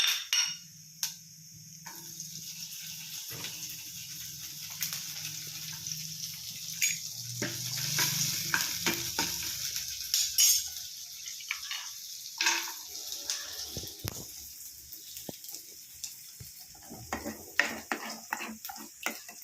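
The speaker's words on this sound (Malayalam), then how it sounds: "നമുക്ക് അണ്ടിപ്പരിപ്പും മുന്തിരി എല്ലാം കൂടെ വറുത്തെടുക്കാം." Steady sizzling of cashews and raisins frying in hot oil, with scraping and clicking of a spoon stirring the pan throughout.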